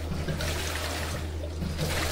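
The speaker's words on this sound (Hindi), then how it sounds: "पानी गिर रहा है" Water pours steadily into a tank with a continuous splashing rush, close by, over a low hum.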